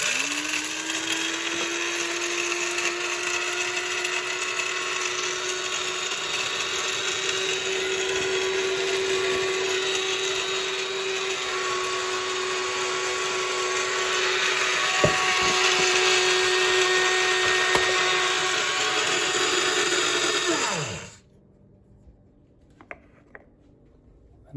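An electric coffee grinder, filled to its max line with coffee beans, whirs loudly and steadily for about twenty seconds, its pitch shifting slightly as the beans break down, then cuts off abruptly, followed by quiet handling clicks.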